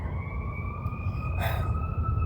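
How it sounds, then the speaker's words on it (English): An ambulance siren passes outdoors, its steady wailing tones held throughout at moderate loudness, with a brief burst of noise midway. No one speaks. "the ambulance sirens went bye-bye"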